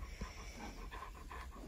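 Dog panting close by in quick, steady rhythmic breaths, fairly quiet and with no talking.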